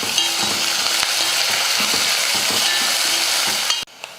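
Chopped onion frying with garlic in an oiled pan, loud steady sizzle with occasional stirring scrapes, ending abruptly as the heat quiets.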